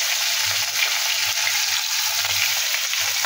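Ground cumin paste and turmeric sizzle and fry in a pan while being stirred, a close, bright continuous hiss with soft rhythmic scraping underneath and no talking.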